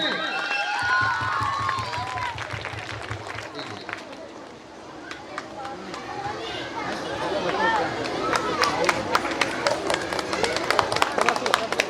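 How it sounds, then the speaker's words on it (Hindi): Students and guests at a 2020 Saraswati Puja gathering clap for their team captain Saurabh. Crowd chatter and voices come first, then scattered claps thicken into dense, lively applause near the end. "इसलिए सब मिलके तालियों से स्वागत करें"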